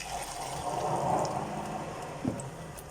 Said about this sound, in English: So that's now our water going in.